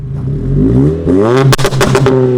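A Golf 5 GTI tuned to 800 hp revs hard outdoors, its engine note rising and falling before a burst of sharp exhaust pops and crackles, loud and close with no talk over it.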